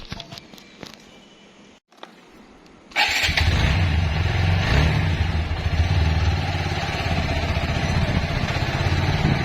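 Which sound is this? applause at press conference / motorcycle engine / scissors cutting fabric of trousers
motorcycle engine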